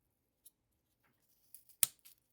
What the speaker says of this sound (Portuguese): Eu vou fazendo isso com a ponta da tesoura mesmo